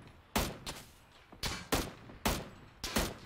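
Gunshots ring out in an online shooter game, about six loud, close single reports spaced irregularly, some in quick pairs, each followed by a brief decaying tail.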